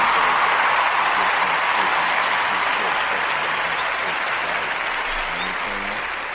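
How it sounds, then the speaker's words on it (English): A dense, steady round of applause from an audience fills the space continuously, loud and even at first and tapering slightly toward the end, with no voices over it. "Give him a round of applause."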